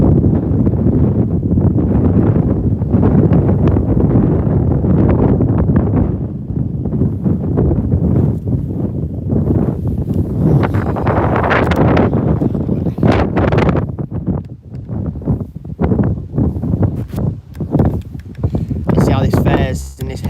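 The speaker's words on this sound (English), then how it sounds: "See how this fares in this heavy sort of wind" Heavy wind buffets the microphone at Birmingham Airport, a loud, continuous rumbling roar with gusty surges throughout, with muffled voices faintly underneath.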